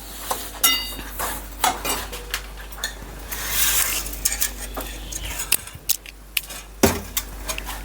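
Chili powder is stirred into a warm pickle masala for khatu athanu, a sour pickle: a spoon scrapes and clinks against a metal pot in close, irregular knocks and rattles, with a faint low hum beneath.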